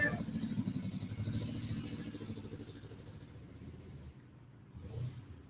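A motorcycle rumbles away down a road outdoors, its engine drone loud at first and fading over several seconds, with a faint rise near the end.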